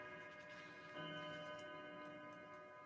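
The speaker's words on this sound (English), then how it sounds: "Big Ben's chiming 6 o'clock" Big Ben's bell chiming six o'clock, heard from a distance: a faint, sustained ringing tone with one new strike about a second in, over a quiet background, with no talking.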